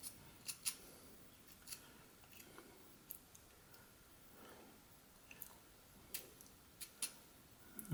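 A pocket knife carves small cuts into 150-year-old walnut while shaping a bear, giving quiet, sparse little clicks and scrapes scattered irregularly across an otherwise hushed background.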